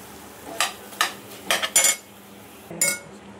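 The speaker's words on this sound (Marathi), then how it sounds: "हा मसाला तर मस्तपैकी आपल्याला मिक्स करायचा आहे" Masala is stirred in oil in a pan for crab curry, and a spoon clinks and scrapes against the metal in a few separate strokes over a faint sizzle, close up, with no talking.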